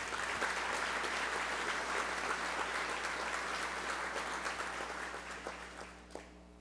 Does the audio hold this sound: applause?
yes